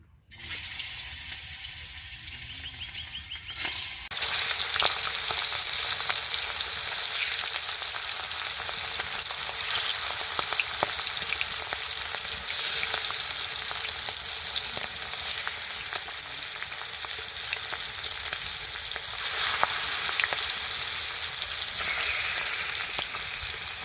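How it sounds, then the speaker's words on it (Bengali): Spice-coated pangas fish fries in hot oil in a wok, a loud, steady sizzle that starts abruptly and continues unbroken with small crackles throughout. "পাঙ্কাশ মাছটাকে ভেজে নিমু কড়াই দিয়ে দিলাম তেল"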